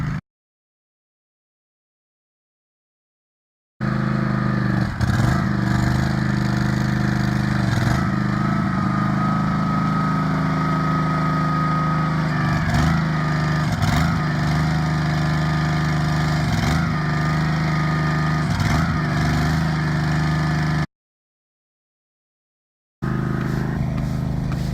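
A mud jacking pump and mixer engine runs steadily at a constant drone in a backyard, with rhythmic periodic thumps from the pump, cutting out briefly near the start and again near the end.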